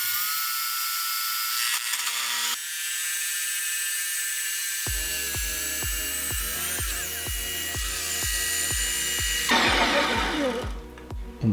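A Ninja Creami ice cream maker gives a loud, high-pitched motorized whir that spins steadily, then shifts into a rapid, rhythmic pulsing grind before revving up again near the end.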